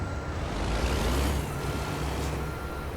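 A truck reversing in American Truck Simulator, with steady engine rumble, a swelling low drone and a faint high warning tone, heard loud and continuous without speech.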